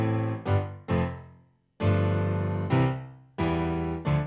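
Piano playing chords from a song without the small thumb notes: seven sustained block chords struck in an uneven rhythm, each ringing and decaying, with a short silence partway through, clear and close with no voice.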